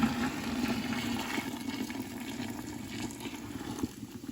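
Hot water, about 4.5 quarts, poured from a pot while making CVG substrate for home mycology, giving a continuous close splashing and gurgling flow.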